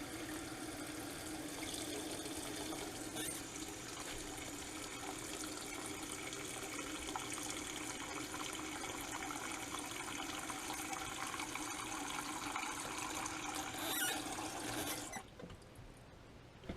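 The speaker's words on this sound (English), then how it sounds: "Then we're going to add enough water" Tap water runs steadily into a pot holding six eggs, a continuous close rushing pour lasting about fifteen seconds before cutting off abruptly.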